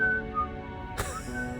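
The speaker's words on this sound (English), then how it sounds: "Winsong lets out a playful whistle" A playful whistle from the character Winsong in the video game Reverse 1999, a short bright tone heard once over a steady music bed, with a brief burst near the end.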